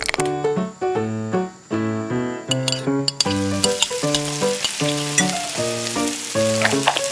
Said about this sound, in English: Let's fry it.